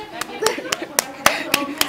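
Two people clap hands together, a series of seven sharp, evenly spaced claps close by, with talk and chatter around them.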